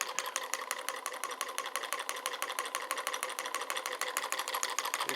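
A piston-powered magnetic pulse motor with a heavy flywheel running steadily, giving a fast, even, loud mechanical clatter with a rapid repeating beat that continues throughout without pause.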